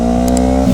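A motorcycle engine revs under throttle while the bike stays in place with a faulty clutch cable, a loud steady close-range engine drone with strong harmonics that rises slightly near the end.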